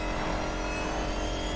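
An electric car in the racing video game The Crew Motorfest surges at high speed near 220, giving a dense, steady whine and rush of road and wind noise with no talk over it.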